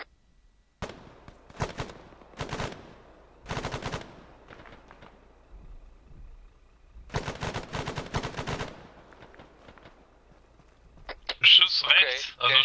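Gunfire in the video game ArmA 3: scattered bursts of shots with short automatic volleys, fairly loud, separated by pauses, with some radio chatter between them.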